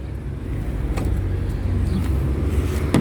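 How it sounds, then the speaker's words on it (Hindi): A car engine idles steadily, left running because it had overheated, a continuous low rumble close by with faint clicks and no talking. "गाड़ी बंद नहीं की क्योंकि बहुत गर्म हुई थी"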